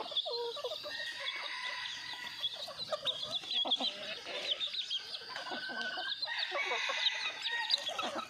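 Jungle fowl in a backyard coop cluck steadily and a rooster crows, a busy, close chorus of overlapping calls continuing throughout without speech.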